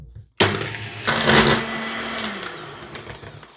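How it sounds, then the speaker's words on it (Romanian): Electric mixer starting up and whirring loudly as cream is beaten into butter, a steady motor whine with a brief louder surge, close and continuous without talk. "o să mixez foarte bine până pun toată crema"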